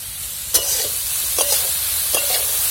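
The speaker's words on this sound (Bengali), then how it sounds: "সুন্দর ভাবে ভাজো উচ্ছে আলু ভাজা" Soft, steady frying hiss of bitter gourd and potato, with a few brief scraping stirs of a spatula against the pan, close and fairly quiet.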